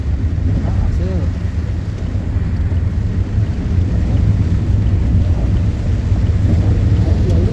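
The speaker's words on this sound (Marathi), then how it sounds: "पाऊस खूप आहे" Heavy rain pours steadily at night on a hillside ghat, a dense constant roar with wind buffeting the microphone and a brief voice near the start.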